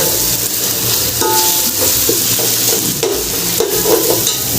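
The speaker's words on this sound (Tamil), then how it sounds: "ஸோ அதை ஒட்டாத அளவுக்கு நம்ம அப்படியே கிண்டி விட்டுக்கணும்." Ginger garlic paste for chicken biryani is stirred in a pan to keep it from sticking, producing a loud, continuous frying hiss with repeated scraping strokes of the spoon.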